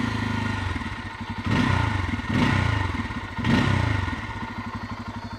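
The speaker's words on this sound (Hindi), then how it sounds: "So this is all about the sound and the exhaust note" A Bajaj Pulsar F250 motorcycle idles with a throbbing exhaust, then revs up three times in rising surges before settling back, loud and close.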